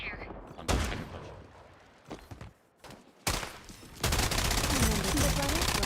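Gunfire in the video game Strinova: sharp bursts of shots crack out several times, then a dense sustained volley of rapid fire fills the final seconds, loud and close, with game voices and sounds mixed in.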